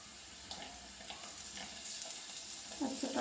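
Green beans tossed into a hot pan sizzle and fry steadily, a soft continuous crackle with a few clatters of stirring, close and moderately loud with no talk.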